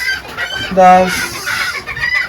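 Mini bantam rooster and hens clucking in a pen, close and fairly loud, with a short crowing call standing out amid scattered clucks and faint background voice.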